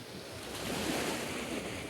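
Sea waves washing onto an evening beach along the seafront at Tekirova, a steady broad roar of surf that swells slightly midway, with wind noise and no speech.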